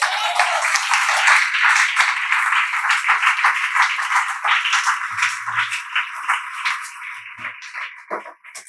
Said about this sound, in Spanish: ¿Cuánto le brinda un aplauso al Señor?